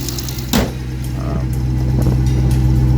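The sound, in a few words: Hemi engine running with pulley noise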